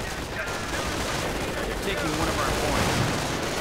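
Assault rifle fire from advancing Panzer Grenadiers in a video game battle, a dense, continuous crackle of overlapping shots over a heavy rumbling din.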